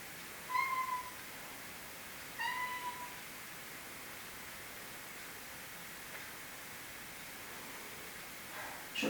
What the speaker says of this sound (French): Je crois que mon chat veut sortir.